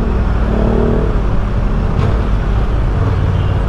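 A 2024 Honda Transalp 750 motorcycle filters through traffic, a loud continuous engine rumble mixed with wind and road noise, no voices.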